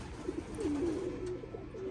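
Soft, low cooing of racing pigeons repeating over a constant outdoor background, fairly close and continuous, with no one speaking.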